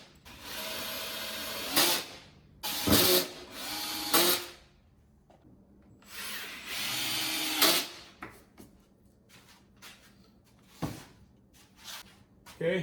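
A power drill drives 3-inch screws into the end grain of wood while building a DIY outdoor patio chair, giving several loud whirring bursts of a second or two each, separated by pauses and handling noises.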